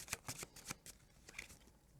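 Cards for the Cosmic Encounter board game being shuffled, a string of crisp riffling bursts in uneven rhythm, close and fairly quiet.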